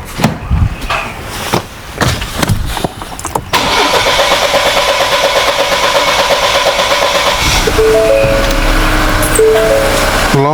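A 2020 Ford Escape with a fuel pressure fault cranks over for a few seconds in uneven bursts before catching and settling into a steady, loud, close idle that holds to the end.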